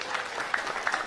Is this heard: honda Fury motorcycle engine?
no